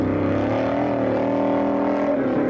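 A Chevrolet 338 engine on nitrous powers a Formula Offroad car, its loud, steady roar holding near throughout with a slight pitch rise and fall.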